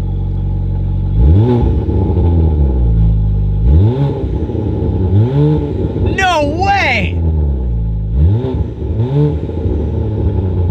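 Straight-piped exhaust on a car revving hard in repeated loud bursts, each swell dropping off into crackling pops, with an excited voice shouting over it near the middle.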